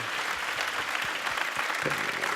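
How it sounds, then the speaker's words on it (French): Audience applause fills an evening French Tech conference on artificial intelligence: dense, steady clapping from a sizeable crowd, sustained without a break for the whole stretch at moderate loudness, with no one speaking over it. "j'aimerais bien qu'on lui fasse des applaudissements à Sylvie."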